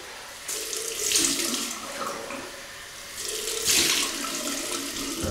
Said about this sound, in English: Okay, we'll have another rinse now.